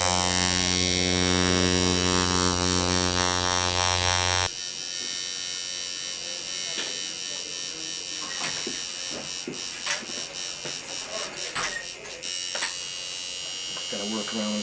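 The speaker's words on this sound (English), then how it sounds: "So this is pure Dimension Black I'm going to do right now. Like packing tribal." Tattoo machine packing solid black ink in a tribal black-and-grey tattoo, a close, steady electric buzz with a pitch shift partway through and faint pulsing as the needle works.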